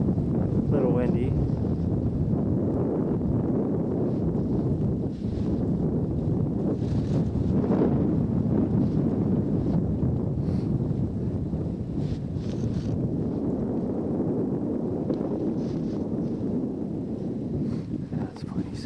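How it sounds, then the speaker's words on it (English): Steady wind buffets the microphone outdoors while someone moves slowly downhill, a continuous broadband rush with gusty swells lasting throughout and no clear talk over it. "A little windy."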